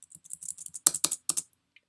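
A quick burst of keystrokes on a computer keyboard, a run of light clicks followed by a few louder, heavier taps, close and alone with no voices.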